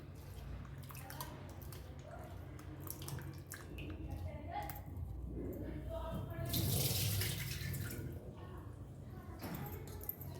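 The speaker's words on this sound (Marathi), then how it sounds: "आता हे बटाटा आपल्याला स्वच्छ पाण्याने धुवून घ्यायचं आहे" Potatoes are rinsed by hand in a pot of clean water, with soft sloshing, dripping and splashing that swell into a louder pour-like surge midway, close to the microphone.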